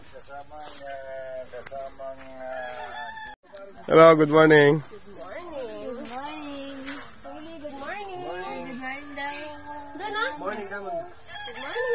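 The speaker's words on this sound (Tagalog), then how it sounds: "Nangingitlog na po pala yung manok natin." Hens cluck and chatter continuously around a farm yard, with a loud rooster crow bursting out partway through, while people talk and greet each other nearby.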